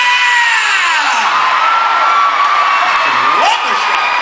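A concert crowd at a show at Journal Pavilion screams and cheers at full volume, a dense, continuous wall of high-pitched shrieks and whoops that stays loud and close throughout.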